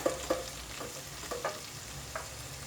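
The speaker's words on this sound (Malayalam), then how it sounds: "കോവയ്ക്ക ഒരു രണ്ട് മൂന്ന് മിനിറ്റ് മൂന്നാല് മിനിറ്റ് ഇതൊന്ന് നന്നായിട്ട് വഴറ്റി കൊടുക്കുന്നത് നല്ലതാണ്" Ivy gourd sautéed in a pan, stirred with a spatula in repeated light scrapes and clinks over a soft, low sizzle, close and fairly quiet, no talking.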